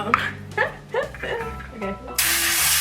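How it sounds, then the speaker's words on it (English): Avocado oil cooking spray sprayed from a can into a baking pan in a home kitchen: a steady, close hiss in one continuous burst that follows a woman's speech. "Okay, so now we spray it. I have avocado spray"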